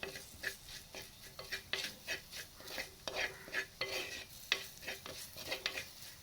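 A spice mix being stirred as it fries in a pan on low heat, with a steady run of scraping spoon strokes over a soft, continuous sizzle, fairly close and with no talking.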